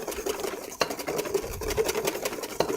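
A whisk beats pumpkin spice waffle batter back and forth in a bowl, a continuous close scraping and sloshing with quick rhythmic strokes and a couple of sharper taps against the bowl.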